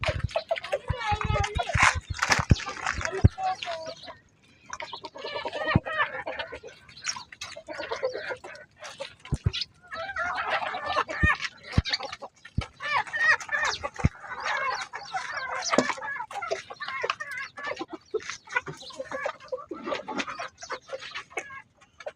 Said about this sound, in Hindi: ये मुर्गियां जो है कितने चाव से खा रही है टमाटर को और पुरानी शाम की रोटियों को।